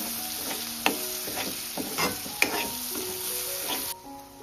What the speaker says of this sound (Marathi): आता मसाला मिक्स करून घ्यायचं तेलामध्ये.